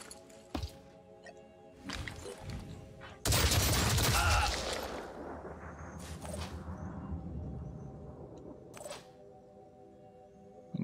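Gunfire in the turn-based tactics game Phoenix Point: a loud burst of shots with a long echoing tail, set among other in-game effects and occasional speech.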